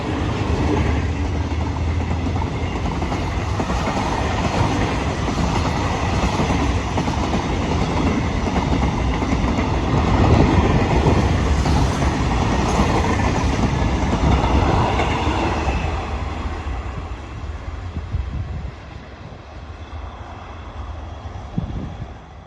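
A train rumbles past close by through Khlong Phai station in Thailand with a loud, sustained roar and rhythmic clatter of wheels, fading somewhat near the end.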